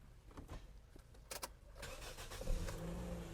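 A Toyota Vios engine cranks and catches after an ECU replacement, with a few clunks and the starter whirring before it settles into a steady, close idle rumble, no voices over it.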